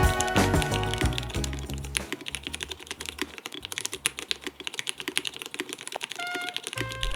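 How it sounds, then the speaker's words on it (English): Fast, continuous keystrokes clatter on a mechanical keyboard fitted with MX Black Hyperglide switches, close and crisp with a few louder clacks, and no one speaks. "I love the feel, I love the sound of the MX Black Hyperglides"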